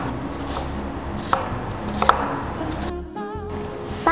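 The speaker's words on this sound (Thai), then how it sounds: "หั่นเนื้อเป็นชิ้นพอคำค่ะแล้วก็หั่นผักที่คุณชอบ" A knife chops meat into bite-size pieces for a Madras curry, with a few sharp, close knocks on a cutting board, spaced irregularly over a steady background hum.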